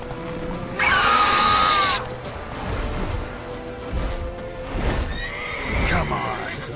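Roach, a horse in The Witcher 3, neighs loudly and gallops with clip-clop hoofbeats on the ground, the whinny rising sharply near the start, while someone speaks briefly over the hooves.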